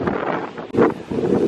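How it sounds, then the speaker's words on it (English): Strong wind gusts at a beach in Puerto Rico buffet the microphone in a steady, rough rumble, briefly dipping before surging again. "It's really windy."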